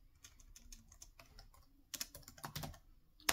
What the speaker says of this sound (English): I don't know if you can hear the kind of tactile feedback, because it's a membrane keyboard